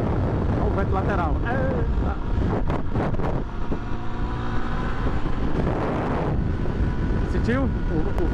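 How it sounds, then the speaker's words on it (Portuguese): Wind roars steadily and loudly past the rider of a 2013 Honda XRE300 motorcycle in a crosswind, with the gusts shifting in strength and brief voice sounds mixed in. "Olha o vento lateral."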